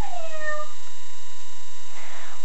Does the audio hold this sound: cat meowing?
yes